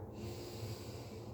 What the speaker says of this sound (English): Let's take a nice breath.